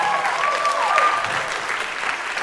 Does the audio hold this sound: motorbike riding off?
no